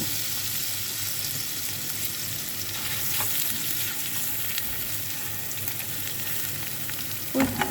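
Ingredients fry in a pan with a constant close sizzle and hiss, occasional soft stirring scrapes, and a brief clatter near the end.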